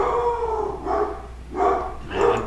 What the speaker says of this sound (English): Man, that dog's crazy.